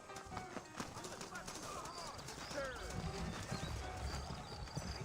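Saddled horses trot in the Western video game Red Dead Redemption, a steady clip-clop of hooves with an occasional whinny under continuous character dialogue and ambient outdoor background.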